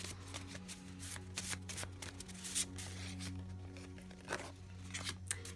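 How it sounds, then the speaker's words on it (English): Homemade love-type cards are pulled from a tarot-style deck, giving a continuous close papery shuffling and rustling with a few sharper flicks over a faint low background hum. "start by pulling out one of these little love language, love type cards that I made"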